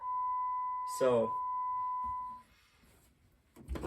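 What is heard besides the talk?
Jeep Wrangler JK beeping with keys in ignition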